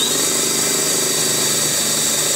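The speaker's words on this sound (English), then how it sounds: "Second set drilled." A power drill boring holes, heard as a steady, high-pitched motor whine with a buzzy edge, loud and close, running unbroken without pauses or voices.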